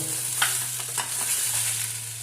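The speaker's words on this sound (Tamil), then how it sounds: "வச்சுட்டு லேசாக கிளறி விட்டுக்கிட்டே இருங்க. ஒரு 2 நிமிஷத்துலேருந்து 5 நிமிஷம் கொஞ்சம் நேரம் வதங்கட்டும்." Prawn curry ingredients sizzle and fry in a pan while being stirred, with soft scraping strokes over a steady close sizzle and no voices.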